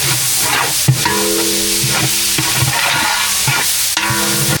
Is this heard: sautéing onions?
yes